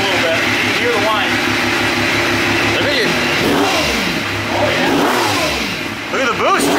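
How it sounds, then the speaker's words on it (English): Yamaha YXZ side-by-side with a Packard supercharger revving in short rising bursts, engine rasp with a whining edge, close and loud, with people talking over it. "we revved it up a little bit. You can hear the whine."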